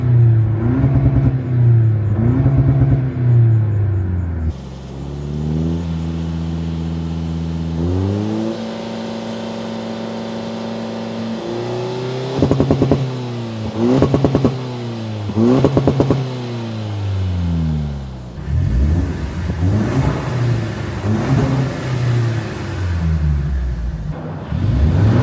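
A four-cylinder 2024 Toyota Tacoma with a MagnaFlow exhaust idles, then revs up in stepped bursts toward a high-pitched redline peak before dropping back, loud and close to the exhaust.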